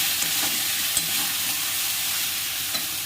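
A spice mixture stir-fried in a pan, giving a steady, close, loud sizzle with light scraping of stirring throughout, no voices.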